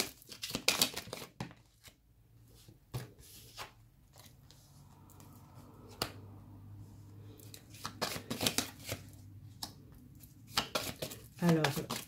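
Tarot cards are shuffled by hand, giving soft papery riffles and shuffling bursts at the start and end, heard close but quietly under someone speaking French.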